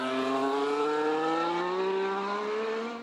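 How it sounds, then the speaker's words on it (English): A 2014 Formula 1 car at Jerez pre-season testing, its engine giving a steady high whine with clear harmonic tones that slowly slide downward as it passes, fairly loud and sustained, then cutting off. "Engine noise has been a big talking point of 2014"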